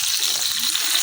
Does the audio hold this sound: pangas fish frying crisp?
yes